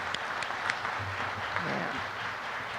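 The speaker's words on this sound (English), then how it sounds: "can we have a round of applause for all of our Valor Service Award winners?" A crowd at an Ohio fire service award ceremony claps for the Valor Service Award winners, sustained dense applause with a few sharper claps standing out from the hall.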